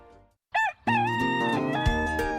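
Rooster crowing once, a loud, clear cock-a-doodle-doo rising after a brief pause, used as a sound effect for a radio chicken-or-egg prize game, alone with no talk.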